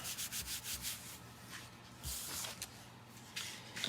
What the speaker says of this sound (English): I'm going to turn it over and just rub a little bit there